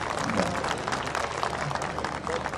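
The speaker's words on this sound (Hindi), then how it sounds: "एक बार ताली बजा दीजिए मेहमानों के लिए" Audience at an Urdu poetry mushaira applauds the guests, with a steady, even clapping from a crowd that continues at a moderate level throughout.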